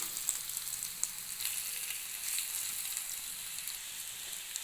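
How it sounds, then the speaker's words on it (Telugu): Sliced radish fries in a hot pan with oil, giving a steady, close sizzle and crackle with scattered small pops, continuous and even throughout with no talking. "చూడండి మనకు చాలా బాగా ఫ్రై అవుతుంది"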